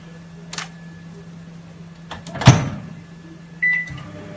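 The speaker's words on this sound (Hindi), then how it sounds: "ये इसको दे के हम माइक्रोवेव में इसको 5 मिनट के लिए रखेंगे।" A microwave oven running with taro root inside gives a low, steady hum, with a couple of sharp clicks and a thud midway and a short beep near the end.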